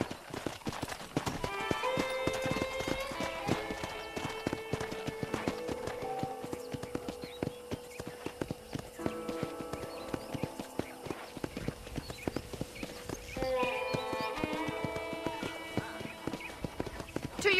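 Horse hooves clip-clop in a steady trotting rhythm on a ranch in Red Dead Redemption, with occasional snorts and brief talk over the game's background music.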